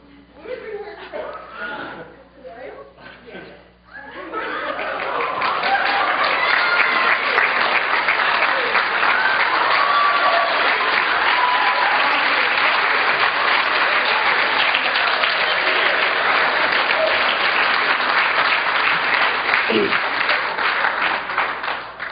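Church or Christian gathering audience bursting into sustained applause with some cheering and chuckles, loud and dense after a few seconds of speech and murmuring.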